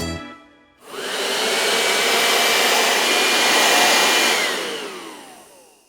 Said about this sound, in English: Can you make a noise like a vacuum cleaner?